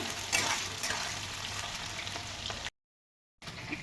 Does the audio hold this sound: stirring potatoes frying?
yes